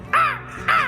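A person mimics a crow's caw, two loud harsh calls in quick succession with a short gap between them, close to the listener and with no other voices.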